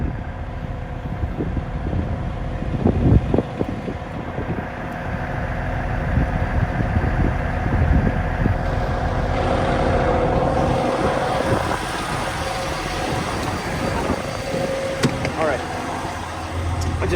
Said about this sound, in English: I was running the truck to